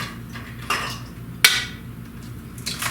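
Eggs are cracked against a bowl for donut bread pudding, a few sharp hard taps spaced out, one especially crisp knock near the middle, with light clinks in a quiet kitchen.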